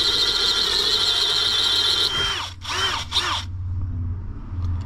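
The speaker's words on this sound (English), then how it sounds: "give me the drill" A power drill whines loudly and steadily during repair work on a Chevrolet S10, then stops and gives two short bursts of drilling before a quieter low hum takes over.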